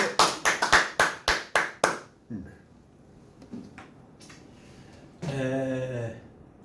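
About seven sharp hand claps in a quick, slightly uneven burst, close and loud, followed by quiet room noise and then a short stretch of talking.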